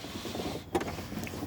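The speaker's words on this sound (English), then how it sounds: "And obviously you got the roll-up windows." Manual roll-up window being cranked inside a Camaro, a short, quiet mechanical grinding and squeak with a brief louder catch partway through, heard up close in a still interior.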